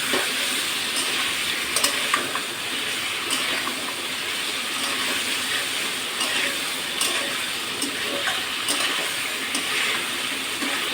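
Bitter gourd and potato frying in a pan while being stirred, an even hiss of sizzling with scattered scraping clicks from the utensil, loud and close and with no talking.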